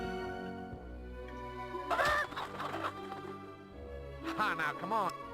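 Two bursts of chicken clucking from a hen in the video game Fable rise over a steady hum of background tones, separated by a quieter stretch.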